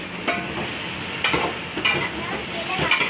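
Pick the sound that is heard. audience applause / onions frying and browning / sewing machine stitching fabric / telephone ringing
onions frying and browning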